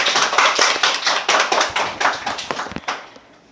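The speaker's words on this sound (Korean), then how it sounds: "우리 목사님께 감사의 박수를" A church congregation claps for the pastor after a closing prayer, a dense spread of many hands beating steadily for about three seconds before thinning out and fading.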